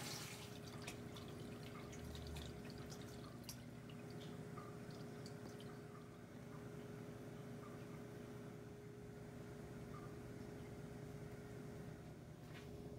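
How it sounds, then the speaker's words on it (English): Water steadily filling a 20 gallon freshwater aquarium tank, a continuous trickling and dripping wash with a steady low hum underneath, at an even level throughout with no talking. "we're going to fill this tank all the way up"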